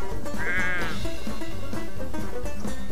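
A single sheep bleat with a wavering, nasal tone rises over a busy game soundtrack of steady music and effects.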